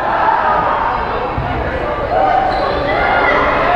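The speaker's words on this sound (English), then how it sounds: "This is a popular cheer here." A crowd at a girls basketball game in a gym breaks into a popular cheer, a dense, steady chant filling the hall while a nearby voice talks over it.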